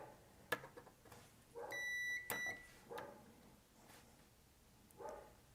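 A digital multimeter's continuity test gives a single steady electronic beep of about a second, followed by a brief sharp chirp, amid quiet clicks and faint handling noises during phone repair.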